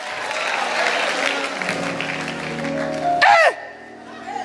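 Applause breaks out in a church service with a pastor preaching, a brief bright burst of clapping and cheering that rises sharply and cuts off within a second, following a stretch of spoken voice.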